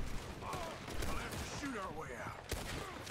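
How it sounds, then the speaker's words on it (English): Gunfire in Red Dead Redemption 2 during a train escape, scattered shots and a sharp crack near the end mixed with game sounds while a voice talks throughout. "I guess we're shooting our way out now."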